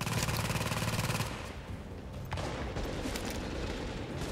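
Rapid bursts of gunfire in the video game The Division, loud and dense for the first second, then continuing more sparsely with scattered shots and booms.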